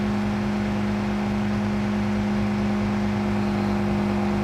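Lizard 86 pickup truck engine in Farming Simulator 22, a steady, loud, even hum with constant pitch while driving, no talking.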